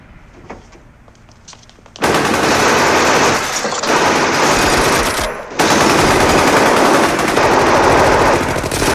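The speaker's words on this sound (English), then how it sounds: "Sonny finna get shot." Sustained, loud machine-gun bursts from a 1972 gangster film ambush, The Godfather, riddling Sonny; quiet opening then two long dense volleys of rapid fire with a brief gap between them.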